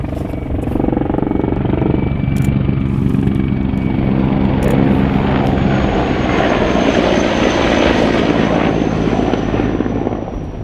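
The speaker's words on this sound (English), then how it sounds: "That's the helicopter, I think." A helicopter flying low overhead dropping flares over a city in combat, its loud, steady rotor and engine roar filling the whole stretch, close and unbroken.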